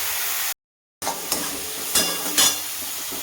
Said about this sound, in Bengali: দিয়ে এবার একটু ভাজা ভাজা করবো